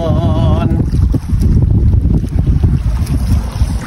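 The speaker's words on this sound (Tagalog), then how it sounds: "Nahihilo si Kaangas kasi malaki ang alon" A small fishing boat rides big waves while strong wind roars and buffets the microphone in a constant rushing wash, with a brief voice at the start.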